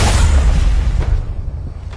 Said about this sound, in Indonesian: Guya menggunakan kepulan asap untuk meledakkan adik Wanner yang lengah